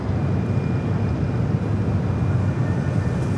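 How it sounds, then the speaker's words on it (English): An American Airlines A321 bound for Dallas–Fort Worth rolls for takeoff at LAX, its engines giving a steady, loud broadband roar that holds evenly throughout with no voices. "American Airlines Flight 2746 heading to Dallas, Fort Worth, Texas on an A321."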